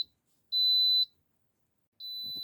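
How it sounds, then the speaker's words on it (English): An Instant Pot beeps when finished cooking, with three clear high electronic tones: a short blip, a longer sustained beep, then another long beep, fairly faint against a quiet room. "The Instapot's going off."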